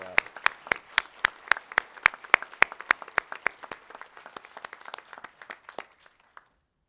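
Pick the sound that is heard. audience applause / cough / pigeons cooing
audience applause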